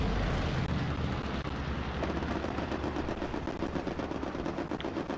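Rapid machine-gun fire from an aircraft strafing run in a World War II combat game, a dense continuous rattle of bursts over a low rumbling roar, loud and sustained with no talk.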